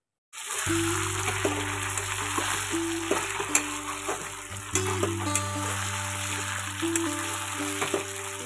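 Spiced meat being braise-fried and stirred in a pan, a loud continuous sizzle with occasional utensil clinks and scrapes, heard close up over a steady humming background tone.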